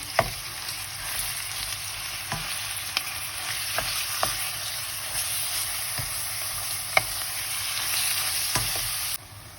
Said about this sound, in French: Et quand la viande commence à cuire